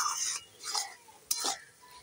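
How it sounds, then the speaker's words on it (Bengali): A spatula stirs curry with sugar, salt and turmeric in a pan, three short scraping strokes against the metal over a faint sizzle. "এখন আমি একটু চিনি, লবণ, হলুদ সব কিছু দিয়ে ভালো করে নেড়ে দিই"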